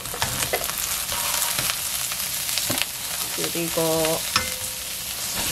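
Minced garlic and green onion sizzle in a frying pan, a dense crackling fry with stirring scrapes and a brief clatter, close up, with one short spoken word.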